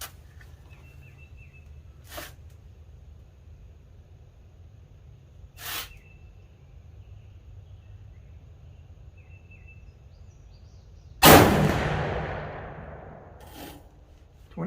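A single loud rifle shot from a Savage Axis chambered in 7mm-08 cracks out outdoors and trails off in a long fading echo, with a few faint clicks and taps in the quiet stretch before it.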